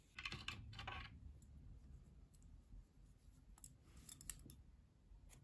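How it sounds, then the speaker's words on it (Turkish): Scissors snipping red thread during needlework, with a couple of crisp close cuts near the start and a few more small clicks later over a very quiet background, no speech. "Kırmızı ipliği kesiyorum."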